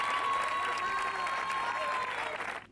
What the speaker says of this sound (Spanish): en la grada familiares y amigos dieron una tremenda ovación a la que ha sido 8 años capitana del equipo lorquino